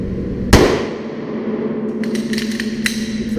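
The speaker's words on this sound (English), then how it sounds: "Charge it up, and shoot." A handgun fires one sharp, loud shot after a double-feed malfunction is cleared, followed by a steady low hum and a few light metallic clicks.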